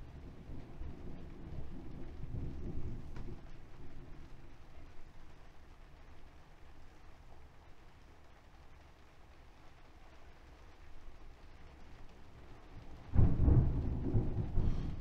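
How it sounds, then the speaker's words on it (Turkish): Heavy rain pours steadily over an outdoor football match, with a deep rumble of thunder building early on and a loud, close thunderclap breaking out near the end. "siz de zannediyorum gök gürültüsünü duyabiliyorsunuzdur"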